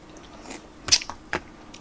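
Close, crisp bites and crunching while eating boiled shrimp with som tam and khanom jeen rice noodles, a few separate bites spaced across a quiet moment.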